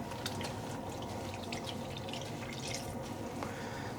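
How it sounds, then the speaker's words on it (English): Water trickling and dripping close by as wet yarn skeins are squeezed out, a soft continuous splashing with a few brighter drips over a low background hum. "squeezing out some of the water"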